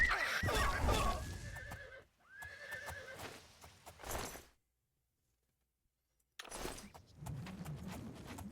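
A horse in the Elder Scrolls Oblivion video game neighs and whinnies loudly and close, with clip-clop hoof sounds, a sudden silent gap, then more hoofbeats and movement noise.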